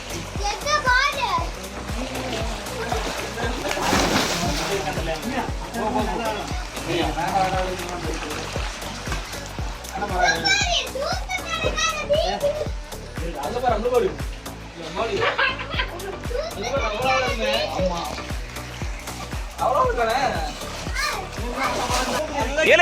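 Children shout and laugh near water at Hatta dam in Dubai, with repeated splashes as people jump in, the commotion continuing throughout.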